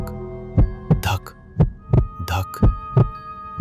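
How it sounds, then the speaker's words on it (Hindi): Heartbeat sound effect in a dramatic night story: a steady series of deep, thumping beats, about seven or eight evenly spaced pulses, loud and close, with brief hissing swells between some beats. "हर कदम के साथ दिल की धड़कन धक धक"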